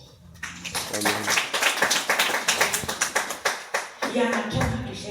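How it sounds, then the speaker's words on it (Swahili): A church congregation at a youth conference claps in praise, a burst of rhythmic, evenly spaced hand claps that builds, peaks and then gives way to a voice speaking. "Pigia Bwana makofi"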